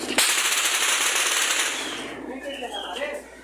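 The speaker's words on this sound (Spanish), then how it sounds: "Nada más agáchense, porque aquí están pegando los tiros." Armed groups fire a rapid burst of gunshots that crackle loudly at first and then fade into scattered echoing reports, with no talking.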